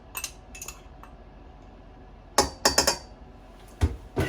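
Croutons tossed with butter and seasonings on a silicone baking mat, giving sharp clinks and scrapes of a utensil in scattered bursts, close and fairly loud between quiet gaps.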